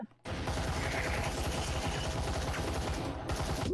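Grenade blast and dense gunfire in a VR shooter game, a loud sustained barrage of bangs and crackle that starts abruptly after a brief quiet moment and runs nearly the whole time.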